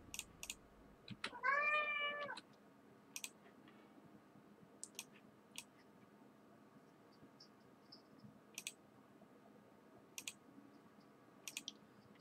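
A cat meows once, a clear drawn-out call up close, followed by sparse faint clicks from a computer in an otherwise quiet room.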